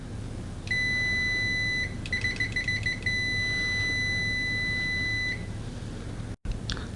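A ZOTEK ZT-980 multimeter gives a steady continuity beep, a high, pure electronic tone held for a second, then repeated short pulsing beeps before a long sustained tone, moderately loud against a hissy background.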